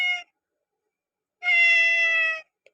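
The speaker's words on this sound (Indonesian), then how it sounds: "Nah tuh kucingnya." A one-year-old orange cat gives a short meow, then after a pause a longer, drawn-out meow, both clear and close in an otherwise silent room.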